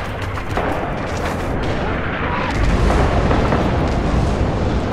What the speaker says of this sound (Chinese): 指挥官用炮击翻盘